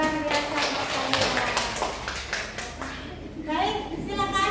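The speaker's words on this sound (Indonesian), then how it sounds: "Tepuk tangan, luar biasa buat kalian." Classroom audience applauding after a student group presentation, a dense stretch of clapping that runs the whole time beneath a speaking voice and chatter, moderately loud and close.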